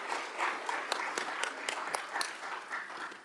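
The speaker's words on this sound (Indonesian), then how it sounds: "Boleh kita beri tepuk tangan kepada Pak Menteri." A short burst of applause for the minister of agrarian affairs and spatial planning at a parliamentary hearing. Scattered claps ring out under a steady room murmur, with no voices standing out.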